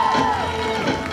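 A large crowd at a youth political convention in the Expo Center in Karachi cheers and applauds, producing a dense, continuous roar with a thin whistle-like tone rising above it.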